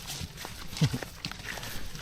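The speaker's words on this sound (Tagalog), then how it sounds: "Cute ng kabayo." Horse hooves clip-clopping on the ground as the spotted horse is led on a rope, a few soft irregular steps at close range with one louder thud, over outdoor background noise.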